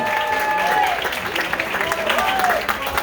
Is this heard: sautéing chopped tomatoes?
no